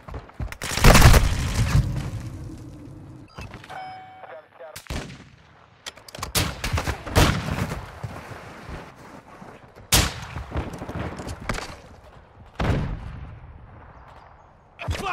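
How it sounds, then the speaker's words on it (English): Gunfire and blasts in a tactical shooter video game, loud bursts recurring across the clip with ringing, echoing tails between shots, and faint voices beneath. "I'm taking fire!"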